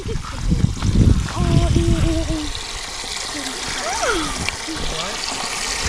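Water splashes and trickles into a bucket outdoors on a farm with animals close by, a steady pour running under people talking.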